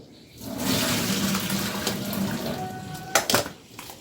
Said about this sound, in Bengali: এরম একটা স্ট্রেনারে আমি ছানাটা একেবারে ছেঁকে নেব জলটাকে কিছুটা ফেলে দিই বাইরে